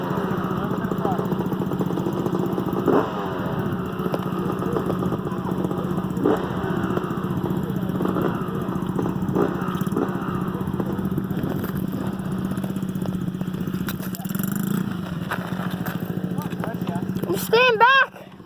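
A dirt bike engine runs steadily throughout, a constant low drone with slight throttle swells, heard close and fairly loud, with a brief rising rev near the end.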